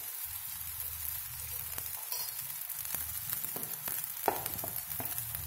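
Rava bread toasts in oil on a pan with a steady, close sizzle, punctuated by scattered small pops and crackles, no voices.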